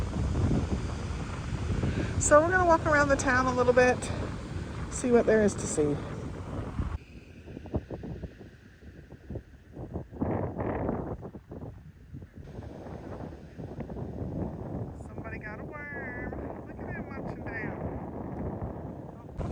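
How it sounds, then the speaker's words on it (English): Wind gusting across a microphone on a seafront park in Napier, a steady rumbling buffet that runs under a person talking for most of the stretch. "Hope you can hear me with the wind."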